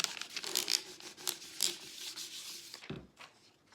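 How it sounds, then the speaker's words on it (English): Someone rubs hard to burnish a transfer down onto a homemade welcome sign, giving a close, scratchy scraping in uneven strokes that ends with a soft thump. "Burnish that down."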